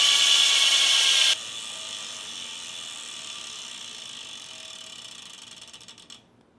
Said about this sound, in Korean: 소리는 정말 진짜 고급스러운 자전거 느낌이 나는 그런 라체 소리를 가지고 있습니다